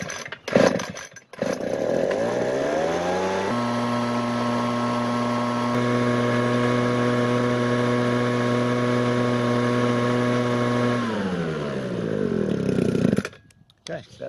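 A Ryobi RBV26G leaf blower spins up, holds a loud, steady high-pitched engine drone with a rising whine for several seconds, then winds down, with someone speaking briefly around it.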